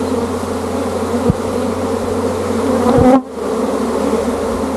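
A swarm of honey bees, with honey and brood nearby, hums loudly and continuously up close, a dense steady drone with a brief thump partway through.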